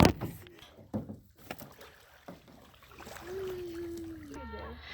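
A paddle dips and splashes as a small boat moves along Rainbow River, with quiet water sloshes and knocks under intermittent talking.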